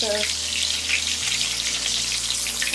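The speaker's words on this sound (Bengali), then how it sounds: "বেগুনগুলো আমি দিয়ে দিচ্ছি তেলের মধ্যে একটা একটা করে" Eggplant slices frying in hot oil in a pan, a steady dense sizzle holding level throughout, close and loud, with no talking.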